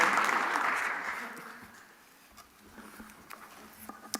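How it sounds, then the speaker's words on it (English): A conference audience applauds the panelists in a burst of clapping that fades over a couple of seconds, leaving scattered claps and faint room noise. "please join me in a round of applause for David, Kelvin, and Nancy"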